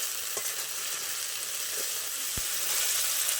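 Mustard paste being stirred into hot frying oil for a fish curry gives a steady, close sizzle throughout, with a couple of soft scraping strokes of the stirring spoon.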